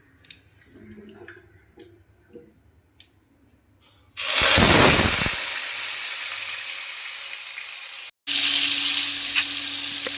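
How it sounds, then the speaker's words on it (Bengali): Cubed potatoes dropped into hot oil with cumin seeds and dried chilli burst into a loud, close sizzle that hisses steadily, cuts off abruptly, then resumes, after a few quiet clinks and taps. "আলুটাকেও লাল করে ভেজে নেব।"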